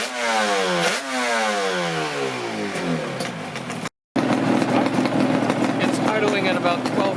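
A Yamaha RZV500 motorcycle engine with four synchronized carburetors settles toward an idle of about 1,000 RPM. The close, steady engine note drops in pitch and then runs on evenly after a brief cut.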